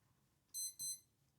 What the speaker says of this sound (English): I have 3 of these clocks and they beep, just beep, beep, beep every hour.